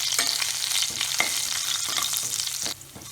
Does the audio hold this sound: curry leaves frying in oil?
yes